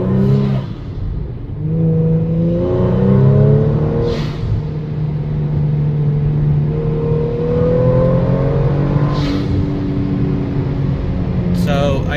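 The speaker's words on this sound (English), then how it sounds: "Alright, so this is with the valve completely closed." A Kia Stinger with its blow-off valve fully closed accelerates hard, engine note climbing through several gears with brief breaks at each shift, loud and close from inside the car, fitted with aftermarket intakes, mid pipe and catback exhaust.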